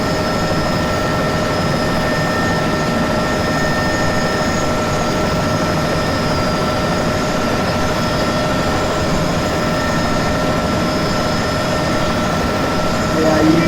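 A desktop flight sim helicopter's engine whines steadily and loud, with a constant turbine drone and sustained tonal hum throughout.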